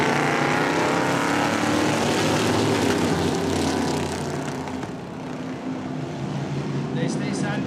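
Vintage early late model race cars start an eight-lap heat at Wiscasset Speedway, a loud dense roar of several engines rising and sweeping past, sustained throughout, with an announcer's voice over the racing.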